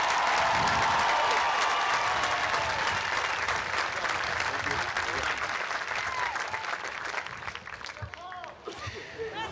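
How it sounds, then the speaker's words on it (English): Sustained applause from a large audience at an outdoor high school graduation ceremony honoring seniors, dense and steady before gradually thinning toward the end. "Please give them a big round of applause."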